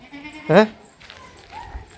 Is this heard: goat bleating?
yes